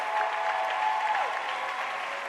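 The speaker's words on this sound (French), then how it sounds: "Est-ce qu'on peut les applaudir encore très fort?" An audience at a dance performance event claps in a full, sustained round of applause with a faint tonal background sound, steady and moderately loud throughout.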